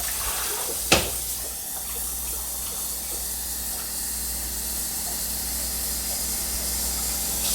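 Steady gushing of water pouring into a pot over chicken, continuous and close, with a brief clunk near the start.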